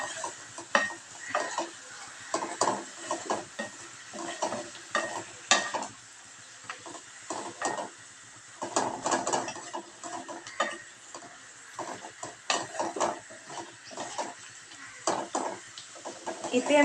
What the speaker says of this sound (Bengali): শুধু একটু নুন আর হলুদ দিয়ে আমি শাকটাকে সেদ্ধ করছি